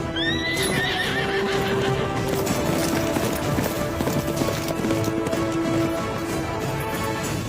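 A horse neighs loudly with shrill whinnies while its hooves clop in a quick, steady rhythm close by, set in a dramatic film scene with no voices over it.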